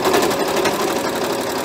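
Close and continuous, a sewing machine stitches a denim laptop case, its rapid needle chatter pausing briefly once before running on.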